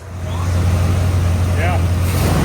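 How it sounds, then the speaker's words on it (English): A Chevrolet K10 truck with a new engine and transmission idles close by, its low engine hum steady and loud throughout, with faint background noises over the top. "Boy, it idles so nice."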